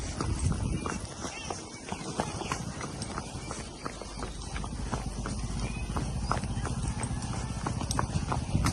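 Steady clip-clop of mares' hooves walking on a hard surface, continuous and fairly close, with a faint voice and a horse's whinny at times.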